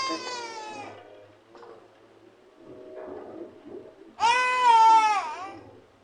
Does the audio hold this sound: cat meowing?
yes